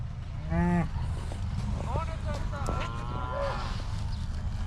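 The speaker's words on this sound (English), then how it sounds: "this is our bred heifers" Bred heifers in a farm pen moo several times, a loud close low bellow followed by shorter calls, over steady background machinery hum and occasional voices.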